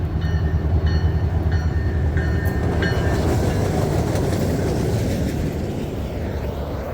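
A CN freight train, 569 West, pulls out of Moncton running light with no cars, a loud continuous rumble and rail noise close by, with a few short high whistle-like tones early on that gradually ease.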